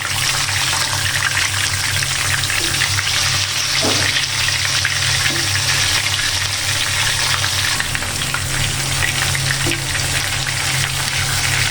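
Pieces of roast frying in hot oil in a pan make a loud, continuous hiss and crackle that holds steady throughout, with a few small knocks and no voices.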